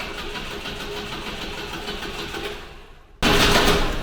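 A car engine fitted with a 123ignition distributor turns and catches, a steady running drone fading out before the engine abruptly fires up and runs loud and close.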